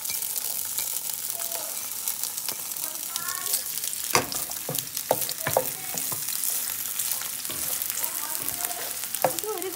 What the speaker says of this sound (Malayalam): തേങ്ങാക്കൊത്ത് ഒന്ന് വറുത്തെടുക്കാം